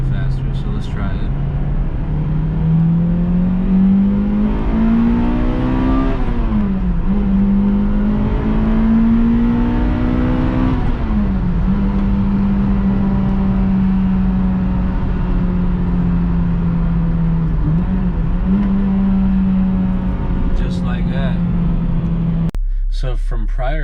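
A Toyota Celica GT-S engine revs hard and holds high RPM, its tone climbing, dipping and rising again as the VVTL-i lift engages above 6,500 RPM; a loud, sustained, close-up mechanical wail that runs for most of the stretch before cutting off near the end.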